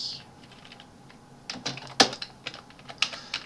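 Typing on a computer keyboard while entering cell data in Excel 2019: a run of sharp, close key clicks in uneven bursts with a few louder strokes, no voices.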